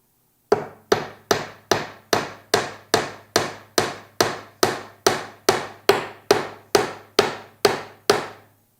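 Steady, evenly spaced hammer blows drive nails into a wooden birdhouse, about sixteen sharp knocks at roughly two per second, close and loud with no talking.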